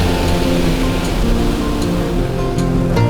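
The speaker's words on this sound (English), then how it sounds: "this is the River Brue flowing off to the west of Glastonbury now" The River Brue pours steadily over a weir west of Glastonbury, a loud, continuous rushing roar of flowing water close by with no break.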